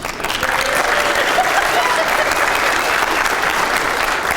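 Steady, dense applause from a ceremony audience at a sheriff's office swearing-in, sustained at even loudness throughout with no pauses.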